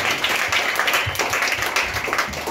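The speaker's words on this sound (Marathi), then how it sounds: "जोरदार टाळ्या वाजवूया आपण इयत्ता 6वीसाठी." Loud, dense applause from a crowd at a school children's assembly for class 6 students, held for Girls' Day, with sustained clapping throughout and no voices standing out.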